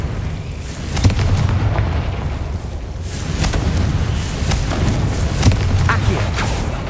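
Repeated Confringo fire-spell blasts in the Hogwarts Legacy game, a series of booming bursts and crackling impacts over a dense, continuous rumble of combat.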